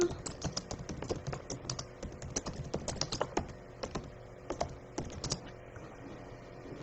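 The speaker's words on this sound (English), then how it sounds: "And I type like I have dyslexia" Rapid typing on a computer keyboard, a close, steady patter of key clicks with irregular bursts and brief pauses, heard alone.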